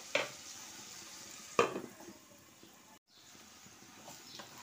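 Salted onions frying softly in a pan while cooking prawn pulao: a faint, steady sizzle broken by two sharp utensil knocks near the start, with a short silent gap midway.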